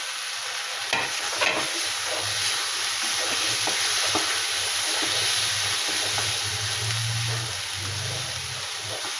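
Potatoes added to a spice masala frying in a pan, a continuous bright sizzle with occasional stirring scrapes, near and steady, with no one speaking.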